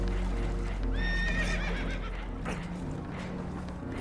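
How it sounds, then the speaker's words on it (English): Spooked horses whinnying in Red Dead Redemption 2, a loud rising neigh over a low rumble, followed by clip-clopping hooves and shuffling movement. "Horses are spooked"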